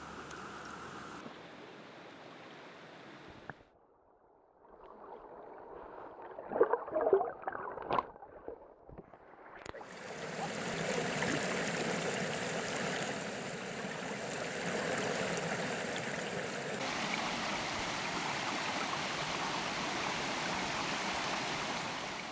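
A wilderness river in the Porcupine Mountains flows beside a backpackers' lunch spot, a steady rushing wash that is quieter with some clatter at first, then swells into a loud, continuous broadband roar for the second half.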